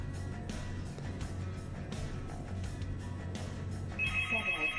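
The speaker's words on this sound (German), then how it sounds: "Und jetzt klingelt mein Telefon." Telephone ringing during a Rebel Galaxy space game session: a bright, repeated electronic ring enters near the end over a dense, rumbling game soundscape with intermittent bursts, and no talk.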